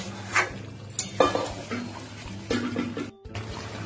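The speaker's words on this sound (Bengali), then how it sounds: "মাটনটা দিয়ে খুব ভালো করে কষবো বন্ধুরা" Mutton being stirred and fried in a pot, with a spoon scraping the metal in several bursts and a low sizzle running underneath, close up and with no talking.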